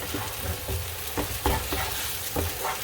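Five eggs sizzle in a hot pan for keto-style Filipino poqui poqui eggplant dish, loud close frying hiss broken by repeated scraping stirs of the spatula at an uneven rhythm.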